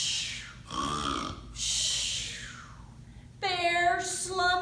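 A voice imitates a bear snoring, with slow rasping inhale snores and breathy exhales repeated in a rhythmic cycle, close and moderately loud, ending in a voiced groan.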